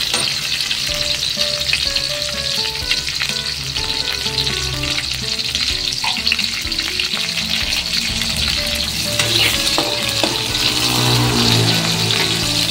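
Onion and garlic sauté in a hot pan for liver and bitter melon stir-fry, a steady loud sizzle running throughout with occasional stirring scrapes and faint background music tones.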